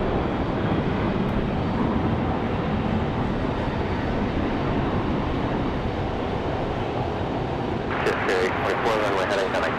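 An American Airlines A321 airliner departs Raleigh Durham airport on a rainy day, a loud sustained jet roar rumbling throughout, with a higher whining tone rising near the end.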